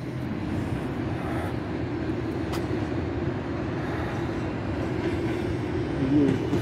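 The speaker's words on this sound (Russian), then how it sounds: "И там вот электричка едет по второму диаметру." An electric commuter train on Moscow's second diameter line runs past Serp i Molot platform with a steady, even rumble and faint clatter heard from above, with no voices present.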